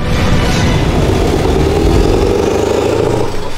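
A Scania 770 S V8 truck revs through loud exhaust stacks, giving a deep, continuous, close engine roar that swells and holds for several seconds before dropping off at the end.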